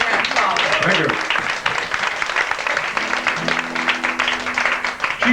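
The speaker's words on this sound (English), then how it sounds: "Let's have a big round of applause" Audience applause at a live amateur variety show, broad steady clapping from a crowd that fills the whole stretch, with a few voices and a tonal hum rising near the end.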